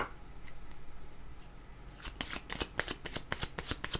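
Tarot cards are shuffled by hand, starting with quiet soft riffling and then turning into a rapid run of crisp, close card snaps and flicks.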